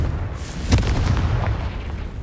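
A Confringo blasting spell explodes in the game Hogwarts Legacy, with one sharp booming burst near the start followed by a rumbling low-end tail, over dense constant battle noise.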